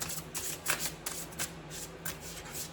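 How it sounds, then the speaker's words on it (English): Tarot cards riffled and shuffled softly in a quick series of light flutters, close by and quiet, with no voices. "let me do one more shuffle"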